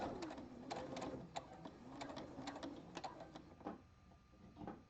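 A home sewing machine stitches a seam on a strappy jockstrap, with a busy mechanical whir and light clicks running steadily at close range, briefly pausing and restarting.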